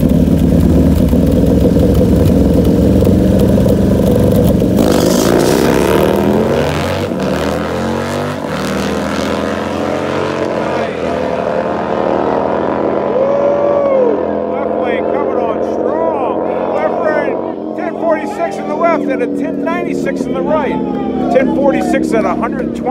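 Bagger motorcycles drag racing at a grudge race on a drag strip, a loud roaring engine drone that sweeps and fades as the bikes pull away, with a crowd and a person talking over it.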